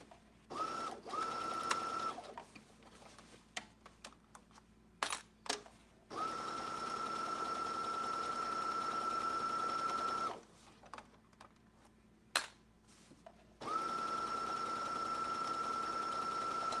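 A sewing machine stitches a curved seam in long steady runs of motor whir, broken by short pauses and small clicks as the fabric is turned, then starts up again, close and fairly quiet.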